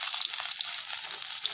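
Potatoes hit hot oil in a pan, giving a continuous bright sizzling hiss with bubbling crackle, close and steady for a brief moment with no talking.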